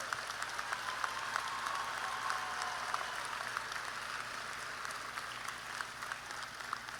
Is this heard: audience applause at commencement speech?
yes